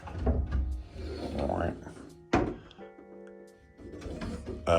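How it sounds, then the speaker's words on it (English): Wooden pantry doors in a house are handled close by, with a sharp thunk of a door shutting amid softer creaks and knocks, while a person talks over much of it. "Nice little pantry doors here."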